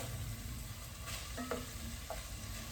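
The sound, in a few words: cooking onions and whole garlic cloves in pot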